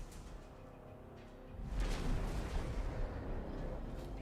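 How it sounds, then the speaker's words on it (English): Torpedo explosions hitting a station in the space game X4: Split Vendetta, heard as a dense, continuous rumble of booming blasts that swells louder midway and keeps rolling without pause. "Looked like a kind of a torpedo explosion"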